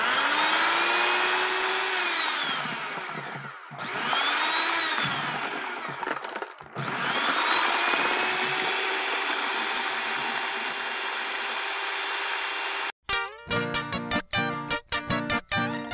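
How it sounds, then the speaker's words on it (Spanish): Electric mixer whipping cream for a homemade cake, a loud whining motor that rises and dips in pitch as the speed changes, then cuts off into a few short choppy bursts at the end. "Voy a batir la cremita."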